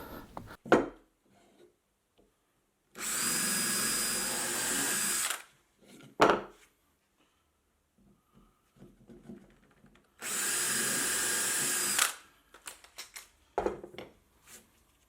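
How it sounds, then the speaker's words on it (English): A power drill bores a hole in wood in two sustained whirring bursts of about two and a half and two seconds, separated by quiet handling clicks and knocks, with no talking. "if you actually put your drill bit all the way through, you could position it exactly where you need to before lining it up"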